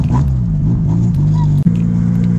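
A Porsche drives past with a low, steady engine rumble, close and fairly loud, with a short dip near the end, heard from the street.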